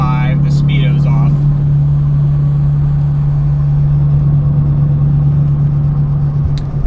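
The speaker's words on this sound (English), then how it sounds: "340 horsepower V8 Porsche that sounds like this" A 2004 Porsche Cayenne S with its 340-horsepower V8 and about 150,000 miles drones steadily from inside the cabin while driving, a loud constant low hum with road noise and a voice speaking briefly at the start.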